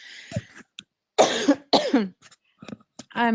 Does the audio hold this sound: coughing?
yes